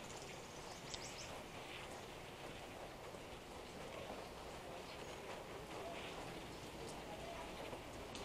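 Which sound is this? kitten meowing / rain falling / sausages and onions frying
rain falling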